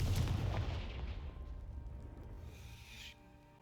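A Confringo fire spell in Hogwarts Legacy blasts apart a piled heap, giving a sharp booming burst followed by a decaying rumble and crackle that fades over a few seconds, with no voices.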